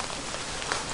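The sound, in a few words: rain starting to fall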